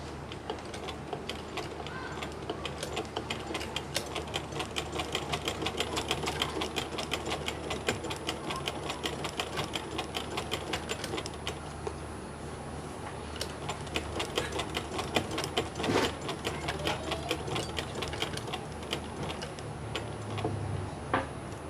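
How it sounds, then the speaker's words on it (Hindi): A sewing machine stitches along the edge of fabric over buckram while a kameez neckline is attached, giving a fast, steady ticking rattle at close range. It runs for a long stretch with brief pauses, and a voice talks at times. "अब इस पर ये हमने साइड पर बिल्कुल इसके किनारे किनारे पर हमने इसकी सिलाई करनी है"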